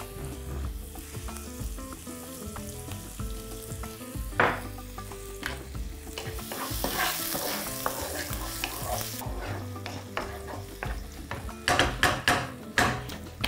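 Onion frying in a pan with a pinch of baking soda and salt, sizzling steadily while being stirred, with scraping and clinking of the utensil against the pan throughout.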